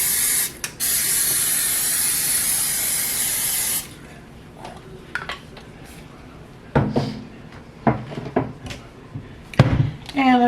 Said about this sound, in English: Let's go ahead and spray my pan.